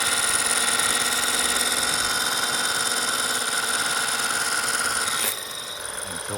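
A Ryobi 18V 600 PSI portable pressure washer runs with a steady, high-pitched motor whine and hum while it draws water through its siphon, then the tone shifts and drops slightly near the end, close by.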